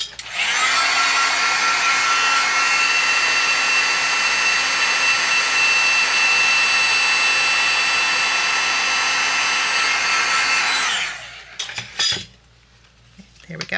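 A heat tool melts clear embossing powder on a card, blowing with a loud, steady, close whine for about eleven seconds before switching off, followed by a few handling clicks and thumps.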